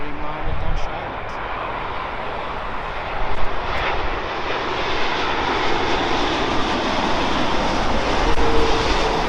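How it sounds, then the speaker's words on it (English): British Airways Boeing 787-8 Dreamliner jet at London Heathrow, a broad roaring engine rumble that holds steady and swells slightly, with faint voices. "British Airways 787 Dreamliner-8."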